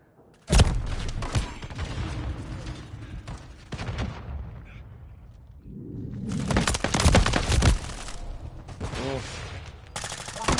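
Pistol shots and other gunfire ring out in a multiplayer shooter video game as loud, close, rapid cracks in two dense bursts, split by a brief lull.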